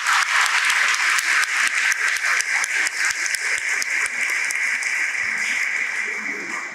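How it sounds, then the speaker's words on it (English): Sustained audience applause at an assembly event, dense and steady clapping from a large crowd for nearly seven seconds, tapering slightly at the end. "Sri Bratya Basu, he deserves a big round of applause from our side."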